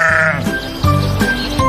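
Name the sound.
sheep bleating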